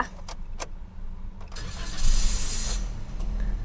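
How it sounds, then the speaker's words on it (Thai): A white 2017 Toyota Yaris Ativ 1.2 J automatic starts up close by with a crank and catch. The engine then settles into a steady idle under a bright hiss, with light clicks beforehand. "เดี๋ยวขอสตาร์ทรถหน่อยนะคะ"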